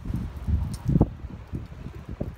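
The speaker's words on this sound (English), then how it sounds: "you can't even hear it because it's so windy and loud." Strong wind on a stormy day in Iceland buffets the microphone in low rumbling gusts, rising and falling in uneven bursts close up, with no talking.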